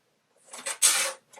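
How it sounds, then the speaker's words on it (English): Pen drawing a line along a quilting ruler, a short scratchy rub building over about a second, a couple of brief strokes then one longer stroke, close and fairly quiet, with no talk. "I'm just going to draw a line"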